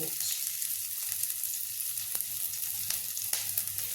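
Garlic and onion frying in a wok: steady sizzle with a bright hiss throughout, plus a few sharp crackles and pops, close and fairly loud, no voices.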